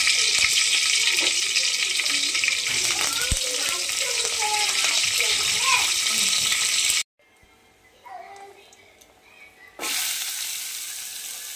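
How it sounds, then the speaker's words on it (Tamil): Loud steady sizzling of mustard seeds, urad dal, shallots and curry leaves tempering in hot oil, with a brief quieter gap of clinking before the sizzle returns. "எண்ணெய் சூடானதும் நம்ம தாளிக்கிறதுக்கு தேவையான கடுகு, உளுந்து, வெட்டி வச்ச சின்ன வெங்காயம் இது எல்லாத்தையும் போட்டு கறிவேப்பிலையும் போட்டு நம்ம தாளிச்சிடலாம்"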